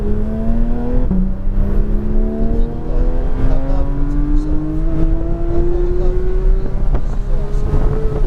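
A car accelerates on a race track day, its engine note climbing steadily under constant loud wind buffeting, with a brief dip near the start before the pitch keeps rising.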